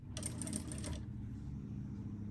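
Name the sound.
sewing machine stitching a handbag seam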